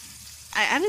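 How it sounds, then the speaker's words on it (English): A tomahawk steak searing in a hot pan on the stovetop, a sudden burst of loud sizzling and crackling halfway through, with a voice speaking over it. "So we want to just make our steak nice and seared."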